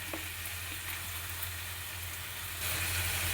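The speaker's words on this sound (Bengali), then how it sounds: "পেঁয়াজ আর কাঁচা লঙ্কাটা একটু লাল করে ভাজা হবে" Onions and green chillies fry in mustard oil with a soft, steady sizzle and occasional stirring clicks, swelling slightly louder toward the end.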